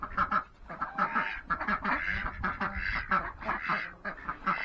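Khaki Campbell ducks, brown farm ducks, quack loudly and continuously at close range in a rapid, overlapping chorus with no talk.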